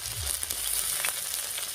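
Slit green chillies and grated ginger sizzle in hot oil over cumin seeds being tempered, a bright, steady frying hiss close by with a light stir and no talk.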